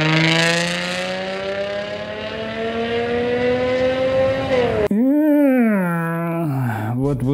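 A Lamborghini Diablo V12 fitted with factory equal-length headers and a sports exhaust howls loudly as it climbs through the revs in one long rising pull, then drops and sweeps up again in a second, harsher burst.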